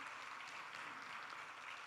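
Applause rings out for the first awardees at a K-8 student film showcase and awards screening, dense, sustained clapping from a crowd, heard from a distance at a low level.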